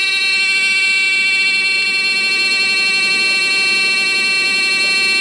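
A truck cab warning buzzer sounds after the ignition key is turned to the on position, a loud continuous electronic tone that holds steady throughout with no one speaking.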